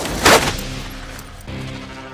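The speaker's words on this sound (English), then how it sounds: "Now I have a machine gun." Machine gun fire in the prison action movie Half Past Dead, a single loud short burst near the start followed by a lower rumbling movie soundtrack.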